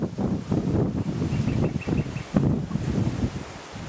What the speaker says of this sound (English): It's quite windy up here, but it's nice and shaded and cool.